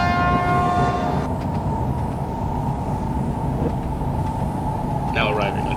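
A Shinkansen bullet train pulls into a station in the Trainz railway simulator, with a loud steady rumble of rolling stock, a sustained horn-like tone at the start and a brief chime near the end.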